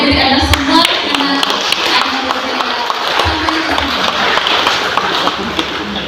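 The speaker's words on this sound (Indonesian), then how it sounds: "berikan tepukan kepada diri Anda semua" An audience at a family day event applauds continuously, a dense, steady wash of clapping filling the whole stretch at moderate loudness.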